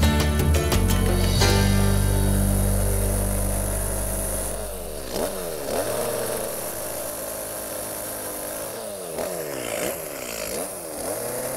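A chainsaw carving wood drones loudly, its engine pitch dipping and rising repeatedly as it bites into the wood, running continuously throughout.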